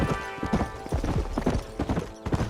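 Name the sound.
horse galloping in the Red Dead Redemption video game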